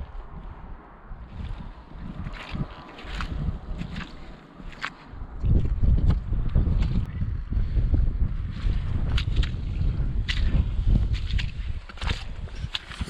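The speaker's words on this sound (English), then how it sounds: "it's a bit blowy" Gusty wind buffets the microphone outdoors on a Scottish mountain in Glencoe, a steady low roar that swells louder about halfway through, with occasional rustling and scuffing underneath; no talking.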